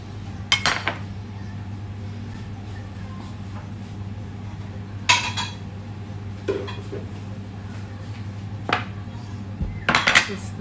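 Dishes and cutlery clink and clatter in a home kitchen as a breakfast table is set, with a few sharp bursts of plates and utensils knocking together over a steady low hum and quiet gaps between them.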